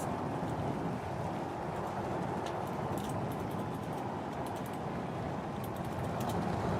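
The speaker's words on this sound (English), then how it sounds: "Look at all 33 engines going." SpaceX Starship rocket, flight 7, lifting off on all 33 engines, a steady, dense, far-off roar that fills the whole stretch without letting up.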